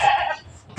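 A young goat, the kid of a deer-like mother, lets out a single short bleat up close, quickly fading into quiet.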